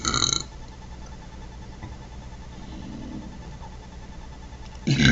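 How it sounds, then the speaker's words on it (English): A person lets out a couple of deliberate burps, one at the very start and another at the end, loud and close, with a quiet gap of low room noise between them. "I am burping."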